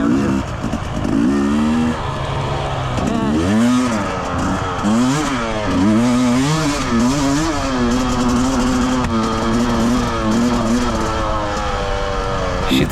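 A two-stroke enduro motorcycle with a worn clutch rides continuously, its engine loud and close, revving up and down in repeated swells for the whole stretch.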